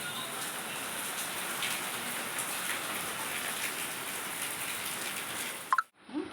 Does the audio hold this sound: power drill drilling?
no